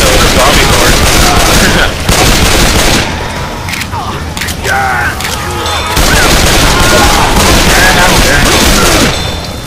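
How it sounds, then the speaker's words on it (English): Rapid gunfire at a zombie horde in a haunted forest video game, dense overlapping bursts loud and continuous with a short lull midway, voices talking over the shooting. "Why are you shooting?"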